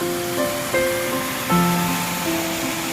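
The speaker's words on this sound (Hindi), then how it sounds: "डैम का पानी कल कल कल कल गिर रहा है" Steady wash of water pouring through the gates of a dam at Ananda Nagar, a loud continuous roar with slight surges and faint tonal hums layered on top, no voices.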